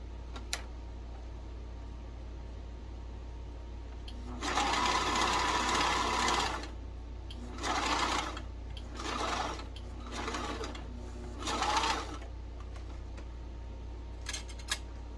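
A sewing machine hems a tee shirt in several short runs, the first one long and the later ones brief, each a whirring stitch burst with quiet pauses between them and no talking.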